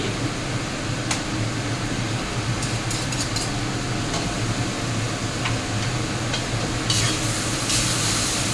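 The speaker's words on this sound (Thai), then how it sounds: "ผัดโบราณใส่ซีอิ๊วดำนิดนึงครับ" Meatballs stir-fried with holy basil and a little dark soy sauce in a hot pan, a continuous sizzle with sharp utensil scrapes and clicks against the pan scattered throughout, no one speaking.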